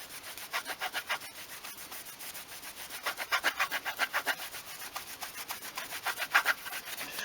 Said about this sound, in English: So a little bit of cutting paste on a cloth. I'm just going to give a little bit of rub across there.